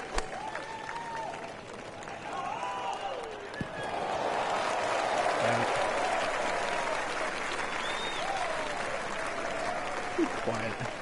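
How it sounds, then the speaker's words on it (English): Crowd cheering and applause from a Rory McIlroy PGA Tour golf video game, a steady broad roar that swells and holds for several seconds, with faint game voices and sounds before it. "Why are you cheering for Ricky Fowler anyway?"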